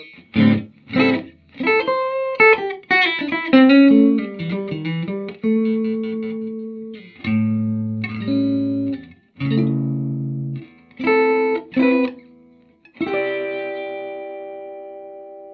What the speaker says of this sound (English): So let's use the foot switch. You can shut off the reverb.